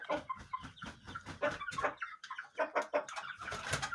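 A young rooster chick nicknamed Kobra clucks and chirps in a rapid, uneven run of short calls, close and fairly loud, with no talk over it.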